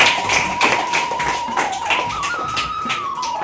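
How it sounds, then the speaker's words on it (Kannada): Clapping from an audience at a Kanakadasa Jayanti function greeting the chairman, a dense, steady patter of many hands held for several seconds, with a whistle-like tone running through it. "ಜೋರಾದ ಚಪ್ಪಾಳೆ ಬರಬೇಕು."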